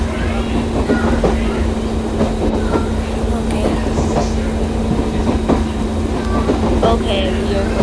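Train running at speed in the Euro Train video game, a steady loud rumbling roll with a constant mechanical hum and faint rhythmic clacks, with a voice talking over it.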